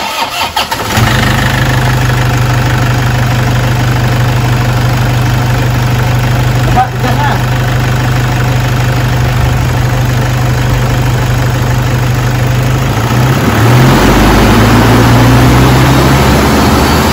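Steady, loud idle of a Toyota Innova engine, a constant low rumble that holds evenly throughout and shifts slightly in pitch near the end, with no one talking.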